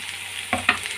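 Potato and onion frying in oil for a spicy bata fish curry, with a steady hiss and two louder bursts of stirring scrapes partway through.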